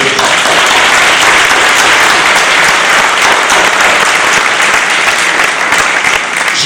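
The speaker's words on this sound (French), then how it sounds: "Je voudrais qu'on l'applaudisse." A crowd at an association inauguration applauds the deputy mayor for culture and heritage, a loud, dense, continuous clapping that holds steady throughout without pause.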